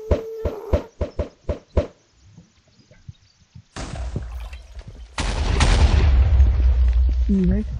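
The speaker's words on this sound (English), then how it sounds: "I think it will explode on the ground." Huge TNT blast in a block-building video game mod, a booming broadband eruption rumbling on and swelling into a louder roaring explosion that sustains to the end, after several sharp spaced pops at the start.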